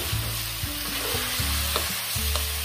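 Fried eggplant stir-fried in a pan with pork belly, a dense continuous sizzle with repeated scraping strokes of a spatula roughly every half second, close and loud with no talking.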